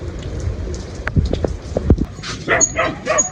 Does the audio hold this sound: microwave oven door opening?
no